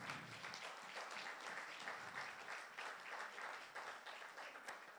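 Congregation applauding together during a church worship service, a steady wash of dense clapping held at an even level throughout.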